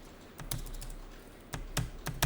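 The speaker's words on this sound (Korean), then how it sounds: "그럼 여기다 한글 직접 타이핑을 하십시오" Someone types on a computer keyboard in an office accounting lesson: scattered key clicks and a few firmer keystrokes, heard close and fairly quiet with no talk.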